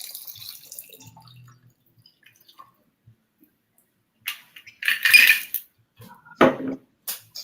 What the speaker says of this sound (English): And you strain it into your glass.